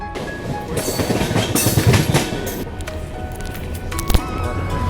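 Sairang Rajdhani Express runs along the track with a loud, continuous rumble and rattling wheels, punctuated by sharp metallic clanks and a brief squeal near the end.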